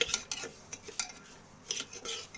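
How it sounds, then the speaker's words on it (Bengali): A utensil scrapes and clinks against a pan in short irregular strokes as mung lentils fry in a little oil, with a faint sizzle underneath, close and quiet. "এটাকে একটু নেড়ে চেড়ে ভালো করে ভেজে নিতে হবে"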